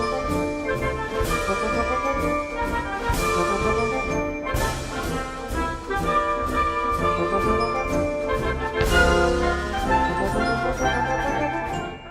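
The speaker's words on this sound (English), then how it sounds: "If we look at the Washington Post March, listen to the bass line, the left hand" Washington Post March plays on piano, the left-hand bass alternating between the one and five chords under a bright march melody, with steady rhythmic accents throughout and no talking.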